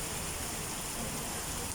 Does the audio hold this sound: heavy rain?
yes